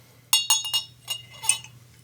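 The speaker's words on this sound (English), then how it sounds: "Pour a little vermouth into your glass and roll it around." Vermouth swirled inside a glass for a dry Manhattan gives several bright clinks and rattles in quick succession, close and clear over a faint low hum.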